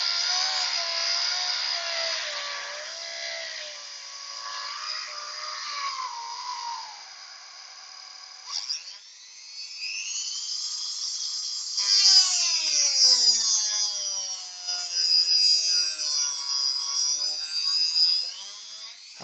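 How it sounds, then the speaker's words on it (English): A Dremel rotary tool cutting while mounted in a jig on a lathe gives a high, whining drone that shifts pitch as it works, dips briefly about halfway through, then resumes louder with a strained edge, all close by. "So, turn the Dremel on."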